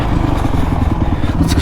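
A twenty-year-old Honda CRF450X dirt bike with a Wolfman luggage bag, its single-cylinder engine running close and loud with a rough, rapid thrum and some mechanical clatter throughout a short burst.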